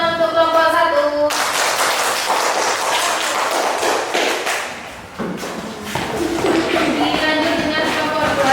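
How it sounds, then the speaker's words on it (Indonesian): A primary school class claps for a group after its presentation, a burst of quick, uneven hand claps and thumps from many children that dips briefly and then picks up again, with a short tone before it begins. "Beri tepuk tangan untuk kelompok 1."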